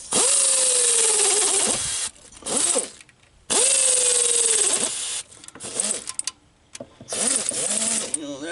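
Bolts being tightened on a Mercedes diesel engine's water pump with a whirring tool that runs in several bursts, separated by short pauses and clinks of metal, close by.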